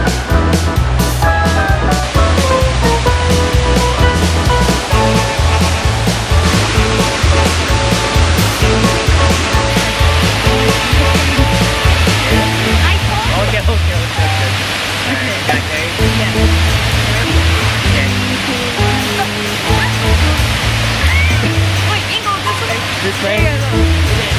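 A waterfall in Japan roars in a loud, steady broadband rush throughout, with music playing over it.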